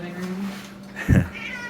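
A pet kitten gives a single short meow partway through, close by, with a person speaking softly to it before and after.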